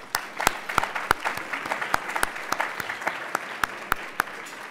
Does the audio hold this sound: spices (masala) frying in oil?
no